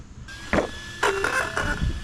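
Arrma Kraton-style RC car, an Arrma V2 EXB bashing off a backyard ramp: a high electric motor whine rises and falls in short bursts, with thumps of landings, close and loud, no talking.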